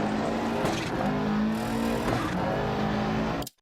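Rally car in Dirt Rally 2.0 on an Argentina stage, engine revving hard with tyre scrub through a handbrake slide, loud and close, cutting off abruptly at the end.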